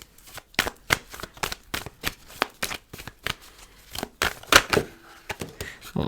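Tarot cards are shuffled and handled up close, giving a series of crisp riffling and snapping bursts in an uneven rhythm, with faint background sounds and no clear speech.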